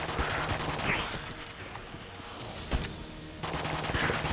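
A MAC-10 submachine gun fires in the video game Enter the Gungeon in rapid automatic bursts, loud and close, pausing briefly in the middle before the rattling fire picks up again.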